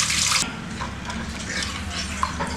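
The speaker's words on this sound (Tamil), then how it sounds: "இப்போ அதை நல்லா வடிகட்டி இதில் ஊற்றிக்கலாம்." Strained tamarind water poured into a cooking pot, a steady close liquid splash and trickle that starts with a brighter gush and then settles into a softer continuous flow, with no speech.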